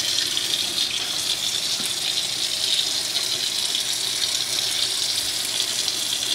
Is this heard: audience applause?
no